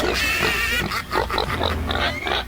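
A pig oinking and grunting repeatedly and close by, a steady run of nasal snorts and squeals filling the short stretch, heard during a radio show broadcast with no talk over it.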